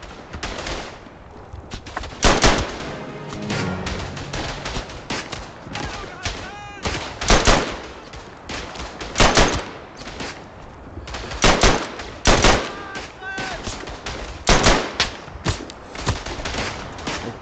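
Repeated gunfire bursts in the World War I shooter Verdun, rattling volleys and single cracks recurring every second or two amid battlefield din, loud and close.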